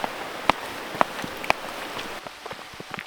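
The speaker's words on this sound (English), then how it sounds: "A quick little rain shower." A quick little rain shower at an island anchorage, scattered drops pattering on a nearby surface, with three louder plinks at regular half-second intervals and a soft hiss underneath.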